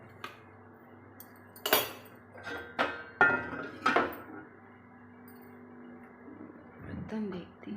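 Dishes and utensils clink and clatter in a home kitchen in several sharp, close bursts spaced a second or so apart, with quiet gaps between and a little speech near the end.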